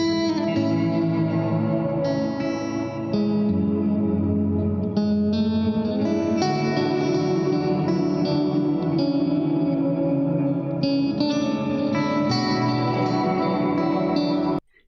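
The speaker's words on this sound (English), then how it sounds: "They're actually modulating the reverb" Guitar played through an effects pedal with modulated reverb, producing loud, shimmering sustained chords with chorus-like wavering and echoing tails that fill the whole stretch without any talking.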